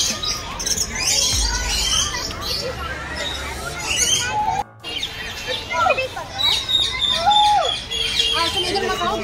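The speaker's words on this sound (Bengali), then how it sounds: "বাট আরও এই যে পাখির শব্দ এখানে তোমরা শুনতে পাচ্ছ" Assorted birds chirp, whistle and squawk at Alipore Zoo in Kolkata, many overlapping calls near and far over a steady crowd murmur, with brief low rumbles and a short dropout midway.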